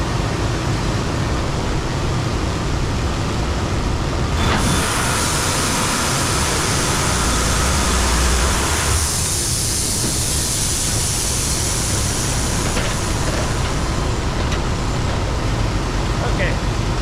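An ambrosia maple log being sawn on a sawmill, a corner cut taken from an over-wide log, giving a loud, steady broadband roar of blade and engine that shifts in tone partway through, with speech heard over it.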